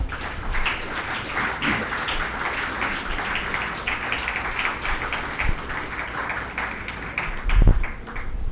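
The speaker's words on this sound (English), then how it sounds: "I request the audience to kindly welcome our esteemed guests with a huge round of applause." Sustained audience applause welcoming guests at an academic conference opening ceremony, a dense steady wash of many hands clapping with one brief louder thump near the end and no speech.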